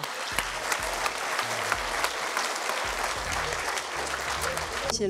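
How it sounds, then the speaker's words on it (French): A crowd at a national convention claps loudly and steadily for the full stretch, with scattered sharper claps standing out and faint music beneath. "Je pense qu'on peut les applaudir très fort"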